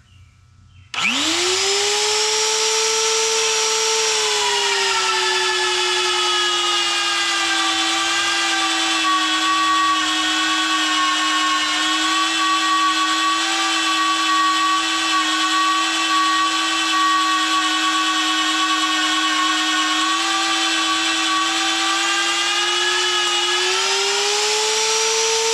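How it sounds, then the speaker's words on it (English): A VEVOR magnetic drill bores into a steel fork/hay spear frame, its motor spinning up sharply, then holding a loud, steady whine with strong harmonics for about 24 seconds before winding down. "now here's where these drills really shine"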